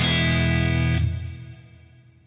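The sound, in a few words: guitar through Sonicake Levitate reverb and delay pedal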